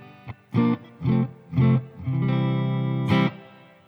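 Clean electric guitar notes and a sustained chord ring out through an amp, a few separate plucks followed by a held strum and one final hit.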